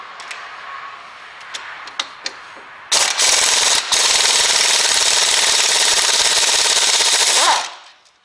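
An air impact tool rattles continuously for several seconds, loosening the 18mm brake caliper carrier bolts on a 2011 Ford Mondeo Mk4 in a garage. A few faint clicks come first, then a short pause, then the long loud burst cuts off.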